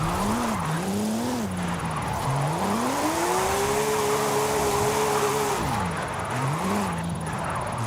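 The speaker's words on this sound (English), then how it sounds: "Not a lot of slippage. I'd like a little bit more slippage than this. But it is drifting" A car drifts in Forza Horizon 5, its engine droning and rising in pitch through long sustained slides, with the note climbing, holding, then dropping and revving again under a constant hiss of tire noise.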